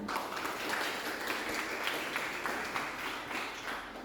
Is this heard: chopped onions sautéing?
no